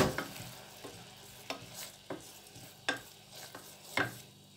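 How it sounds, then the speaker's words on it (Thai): Thai curry paste, two tablespoons for a coconut curry with cassod leaves and beef, stir-fried in a pot: a quiet low sizzle broken by sharp scraping strokes of the spoon about once a second, close up, with no talking. "ยายปาก็เอาพริกแกงลงพัดเลยค่ะ"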